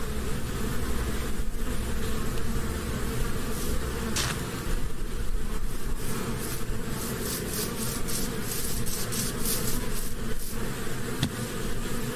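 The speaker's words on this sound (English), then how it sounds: "The player hears that buzzing sound effect again before finding a bee with the player's face on it." Bee buzzing sound effect in an analog horror video game, a steady close insect drone that wavers in pitch and loudness, running continuously with no voices.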